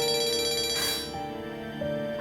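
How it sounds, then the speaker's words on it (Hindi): An incoming-call phone ringtone chimes in a steady electronic melody, close and clear, with no talking over it. "हाँ, दुआ का फोन है।"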